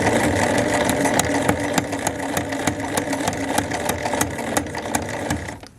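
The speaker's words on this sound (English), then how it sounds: "I can begin with a back stitch" Close-up sewing machine stitching a pants seam, starting with a back stitch: a rapid, rhythmic mechanical clatter with regular needle ticks, running continuously before slowing and stopping.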